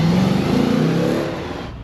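Audi RS4 B7 cabriolet with a 4.2 litre V8, a loud nearby engine note rising in pitch as it revs and then easing off, with no talk over it.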